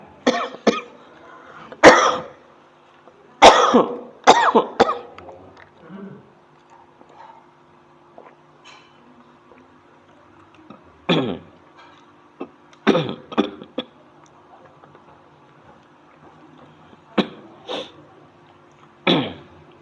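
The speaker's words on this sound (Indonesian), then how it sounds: "tadi saya batuk-batuk" Repeated harsh coughing fits in short clusters, close and loud, separated by quiet stretches with a low hum in the background.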